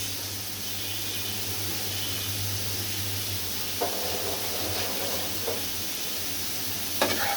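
Bitter gourd and shrimp fry in a pan with green chillies, making a continuous sizzle and hiss, with a few scraping stirs of a spatula toward the end and no talking.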